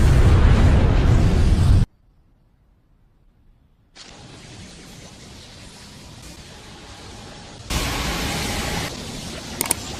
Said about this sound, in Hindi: धमाके को एक दूसरे स्पेस में भेज दिया